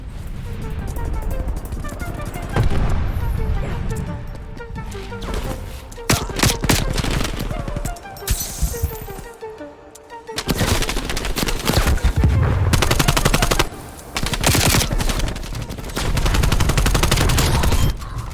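Rapid, loud automatic gunfire from a gun in a video game, with dense bursts and short pauses, and faint game sounds between the volleys.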